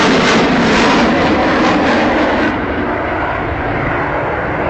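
A MiG-29 Fulcrum jet fighter flies a display at an airshow, its engine roaring loud and broad, with a pulsing rush that drops to a slightly duller roar halfway through.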